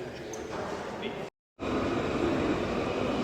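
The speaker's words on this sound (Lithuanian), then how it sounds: "Ir vėl tramvajus." A tram in Dublin rumbles past close by, a low continuous rolling roar interrupted by a brief silent gap.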